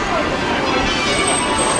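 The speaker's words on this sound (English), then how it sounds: "You can hear the church bells or some bell tops going" Church bells ringing in the City of London near the Monument, heard as a dense, continuous wash of tones mixed with loud outdoor street ambience.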